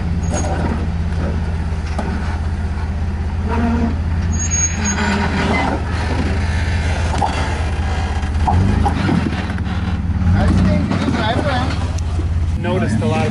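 Off-road vehicle driving at the Chili Challenge off-road event, a loud steady low engine drone running throughout, with voices talking over it and brief mechanical hisses.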